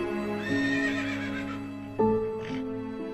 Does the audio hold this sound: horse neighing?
yes